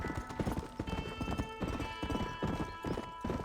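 Horse hooves clip-clop in a steady, close rhythm through a Red Dead Redemption game scene, with a horse's whinny and layered musical tones running underneath.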